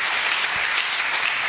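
Church congregation applauding loudly, a dense, even burst of many hands clapping together at close range, steady for the whole short stretch.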